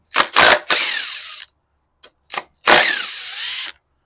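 Ratchet working on valve cover bolts of a 5.3L engine during teardown, with loud, close bursts of rapid clicking separated by short pauses and a couple of brief knocks in between.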